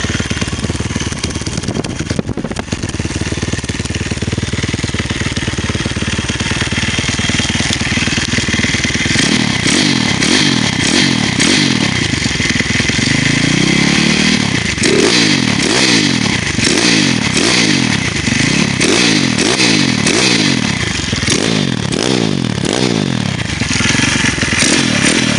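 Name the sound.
150cc dirt bike engine running and revving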